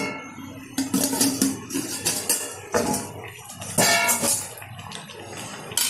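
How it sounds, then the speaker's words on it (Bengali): A lid comes off a cooking pot of Bengali fish curry with potatoes, pointed gourd, coriander and tomato, giving close metallic clatters and scrapes amid a bubbling simmer. "ঢাকনাটা তুলে দিচ্ছি।"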